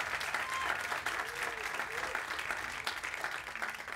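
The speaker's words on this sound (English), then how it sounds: "give a huge round of applause" An audience at a lightning talk in Cannes gives a round of applause, with sustained, busy clapping and a faint crowd murmur underneath that holds steady throughout.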